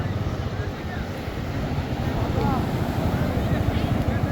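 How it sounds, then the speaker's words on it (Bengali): Sea waves roar at Cox's Bazar beach in a broad, continuous wash that swells slightly louder toward the end, with wind buffeting and faint voices underneath. "সমুদ্রের গর্জন শুনতে পাচ্ছেন কিনা বন্ধুরা সমুদ্রের গর্জন"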